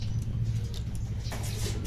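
A racing pigeon lands back at its loft at the end of a training flight in Aliaga, Nueva Ecija, soft flutters and pattering against a low steady background.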